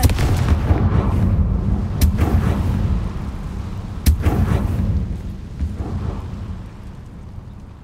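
Confringo spell explosions in the Hogwarts Legacy video game, several sharp booming blasts spaced a couple of seconds apart, loud and close, each trailing off into a low rumble.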